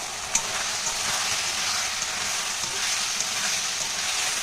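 Sauces for hotel-style chilli paneer are stirred in a hot frying pan, giving a steady, close, bright sizzle that hisses continuously with faint scraping and one small clink near the start, no speech.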